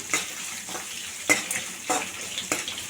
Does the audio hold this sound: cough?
no